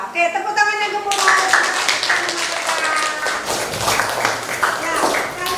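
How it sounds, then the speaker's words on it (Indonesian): A classroom of students breaks into applause, a dense stretch of clapping with voices mixed in and chattering over it throughout. "tepuk tangannya gemuruh"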